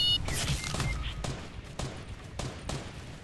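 Gunfire in a Fortnite match, a quick series of sharp shots cracking at irregular intervals, moderately close over low background noise.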